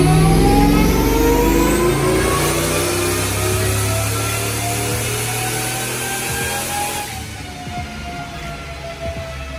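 A turbocharged LQ4 6.0 LS-swapped BMW E36 on pump gas, fitted with a Borg Warner SXE372 turbo, revs on a dyno in a partial shakedown pull: a loud engine note climbs steadily, then drops off sharply near the end.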